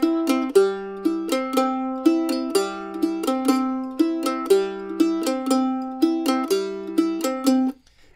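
Mandolin repeating a one-measure salsa rhythm figure, crisp plucked notes in a tight syncopated pattern that loops about a dozen times, close and alone, then stops.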